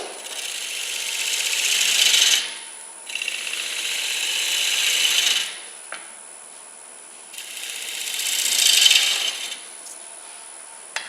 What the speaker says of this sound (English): I'm actually just boring a hole into the bowls, all I'm doing right now.